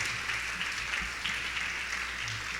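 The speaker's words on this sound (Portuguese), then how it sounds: "Vamos aplaudir o Senhor Jesus." Church congregation applauding during a service, a continuous wash of clapping heard from a distance at moderate volume, with a low hum beneath.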